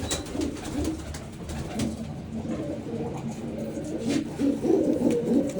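Breeding pigeons in a loft coo softly and repeatedly, low murmuring calls layered over faint background noise with no talking.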